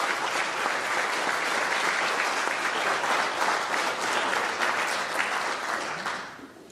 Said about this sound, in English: big round of applause for all Silver Award recipients